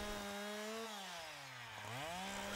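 A chainsaw runs steadily, its engine pitch dipping as it bites into wood and rising again as the cut eases, fairly close and alone without talk.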